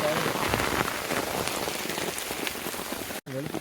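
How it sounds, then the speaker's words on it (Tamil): Heavy rain pours steadily in a tiger-inhabited forest during a climb up a 70-foot jackfruit tree, a dense, loud, continuous wash of drops broken only by a brief voice near the end. "மழை வேற வெளுத்துக்கிட்டு இருக்கு"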